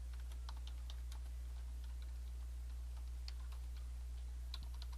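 Text typed on a computer keyboard in InDesign 2020 comes as faint, scattered key clicks at an irregular pace over a constant low electrical hum, with no talk.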